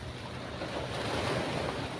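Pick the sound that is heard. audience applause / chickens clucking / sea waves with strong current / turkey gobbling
sea waves with strong current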